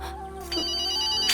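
A mobile phone ringtone plays a bright repeating electronic melody, fairly quiet and close, heard alone without talk.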